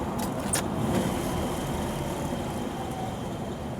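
A 1961 Chevrolet Corvette engine hums steadily while driving, with road and wind noise filling the background and no one talking.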